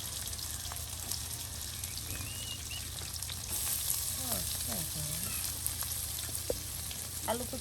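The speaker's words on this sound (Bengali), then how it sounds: "অন্যদিকে এই যে পেঁয়াজ রসুন সব কিছু ভেজে নেওয়া হচ্ছে" Onion and garlic frying together in a village kitchen pan, a steady low sizzle with soft crackles and occasional stirring scrapes throughout, no talking.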